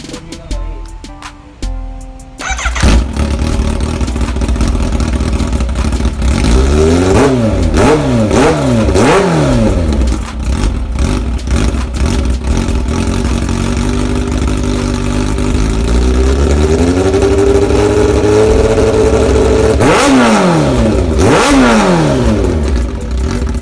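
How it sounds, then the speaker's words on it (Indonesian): A 2017 Kawasaki Ninja H2 motorcycle fitted with an Austin Racing exhaust starts up, idles, then is revved repeatedly in sharp bursts and a longer sustained climb, loud and close, with brief pauses back to a burbling idle. "sekarang kita bakalan test sound Kawasaki H2 dengan knalpot Austin Racing"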